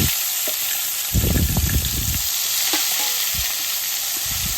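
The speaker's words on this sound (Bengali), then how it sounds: "মাছগুলো বেশি কড়া করে ভাজবো না, একটু হালকা করে ভেজে নিচ্ছি।" Catfish (shingi) pieces fry lightly in oil for a fish curry, a loud close hiss of sizzling oil with bursts of spattering and stirring rumble.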